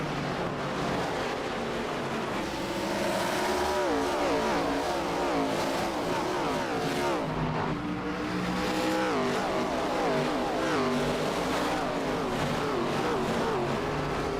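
Race cars running under green flag at Bristol's half-mile oval in the iRacing sim, a dense continuous engine roar with rising and falling revs from several cars close together, steady and loud throughout.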